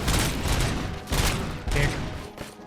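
Gunfire in the video game Robocop: Rogue City, with three loud bursts of shots hitting enemies in quick succession, close and punchy.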